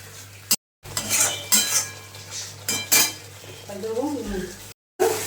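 Pointed gourd curry being stirred and sautéed in a pan, with repeated metal spoon scrapes and clinks against the pan over a soft sizzle, close and fairly loud, broken by two brief silent gaps.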